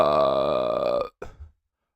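A single long, loud, close burp rumbles for about a second, then breaks into a short rough tail and stops, leaving silence.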